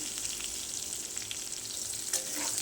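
Spices and cashews fry lightly in a pan over a low gas flame, a close, steady, even sizzle with faint stirring scrapes and no one speaking.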